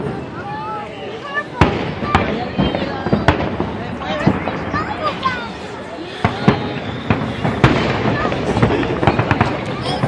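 Fireworks go off at a July 4th celebration in Washington, DC, with repeated sharp bangs and crackles scattered over a steady crowd din, while people talk nearby.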